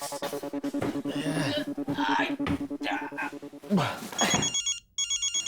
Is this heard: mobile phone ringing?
yes